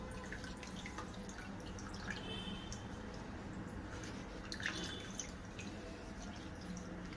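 Water draining from a knotted cloth bundle of milk solids hung up for 15 to 20 minutes while making kalakand, a steady soft patter of drips in a quiet kitchen, with no one speaking.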